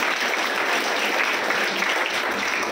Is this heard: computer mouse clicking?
no